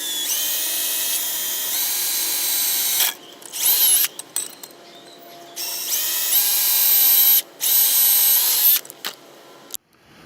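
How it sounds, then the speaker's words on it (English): A power drill bores a hole for a stud to hold down a loose coil pack after its bolt broke. The steady, whining drill runs in long bursts separated by short pauses, close and loud. "in order to drill the hole probably where my thumb is, in order to put that stud through"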